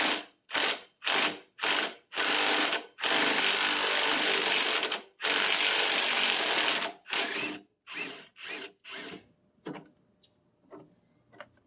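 A Milwaukee power tool working a long bolt loose on a rear differential: a series of short rattling impact bursts, then two long sustained hammering runs, then quicker fading bursts, close and loud with no talking.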